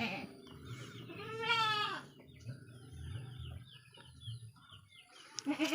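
A goat at a livestock market gives a loud, wavering bleat, with chickens clucking and other farm sounds around it and brief, quieter animal calls afterward.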